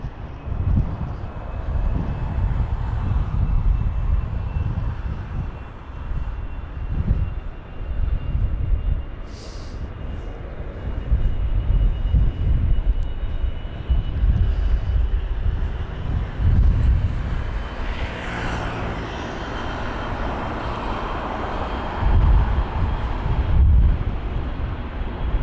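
An Air France Airbus A220-300 bound for Paris starts moving off at a stormy Heathrow, giving a steady broadband engine rumble blended with gusting wind noise across the whole stretch, with a brief brighter swell of jet whine toward the end.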